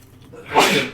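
A single sharp sneeze, short and close, rising quickly and then trailing off.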